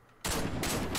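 A loud semi-automatic sniper rifle shot from the Warface video game on a farm map, bursting in abruptly after near silence and followed by a second sharp blast, with dense crackling echo through the rest.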